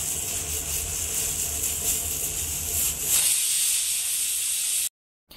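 A pressure cooker on a home kitchen stove gives off a continuous loud steam hiss that shifts and thins partway through, then cuts off abruptly near the end.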